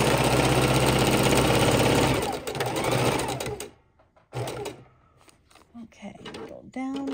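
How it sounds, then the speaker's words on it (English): A sewing machine stitches raw-edge appliqué with double-sided fusible, giving a fast, steady mechanical whir for about two seconds. It slows and stops, and speech and handling noises follow. "my sewing machine keeps unplugging itself"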